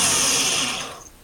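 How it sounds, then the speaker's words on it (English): A drill bores into the front end bell of a Pentair Whisperflo pool pump, a loud high whine that holds steady for about a second, then tails off as the bit slows. "Now I'm drilling that out."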